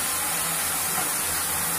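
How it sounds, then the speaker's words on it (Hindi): Ground onion paste frying in hot oil in a pan, a continuous dense sizzle and hiss held steady and close throughout. "इसमें हम ये प्याज का पेस्ट डालेंगे।"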